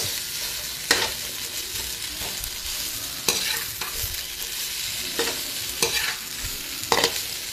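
Vegetables for adobong sitaw (string beans) sauté and sizzle steadily in a hot pan, with a few sharp scraping stirs of a utensil at intervals.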